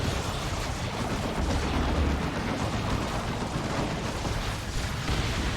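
Dense, continuous battle roar from a Warhammer 40,000: Dawn of War 2 match, with a loud Bio Meltdown death explosion blended into sustained rumbling blasts and gunfire, with no clear breaks.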